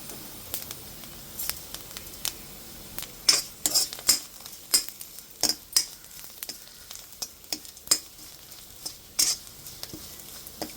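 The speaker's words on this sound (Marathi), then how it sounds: "आता या कढईमध्ये कारळे आणि तीळ सुद्धा भाजून घेऊया" Niger seeds, sesame and cumin dry-roast in a kadhai, stirred with a spoon that scrapes and clicks against the pan in irregular bursts over a faint crackle, with no talk.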